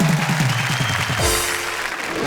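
A kavi sammelan (Hindi poetry gathering) audience breaks into applause, a broad wash of clapping swelling in after a brief stretch of voice and continuing steadily.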